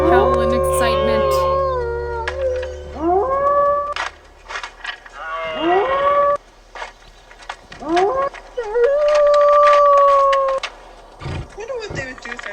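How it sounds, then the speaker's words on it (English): Wolves howl in the Wolf Quest video game, long rising and sliding tones that layer and repeat across the stretch, loud and close, with short pauses between bouts. "Howl and excitement."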